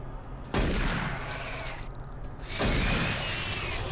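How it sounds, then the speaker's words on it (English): Two loud, close shotgun blasts in the video game Doom 3 BFG Edition, about two seconds apart, each a sharp boom trailing into a long rumbling decay over steady game ambience. "2 shotgun blasts from far range is not bad"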